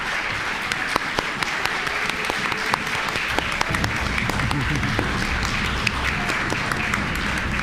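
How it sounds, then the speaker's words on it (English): A Unitarian Universalist church congregation in Savannah applauds during a Sunday service, with many scattered sharp claps over a steady wash, and voices talking underneath. "go ahead and give her applause"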